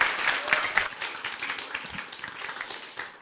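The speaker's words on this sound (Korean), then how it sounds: "박수 해주시고 들어가 주시면 좋겠습니다." A church congregation applauds during a teachers' Sunday service, with loud, distinct claps that are strongest at the start and then thin into a softer, uneven patter as the clapping dies down.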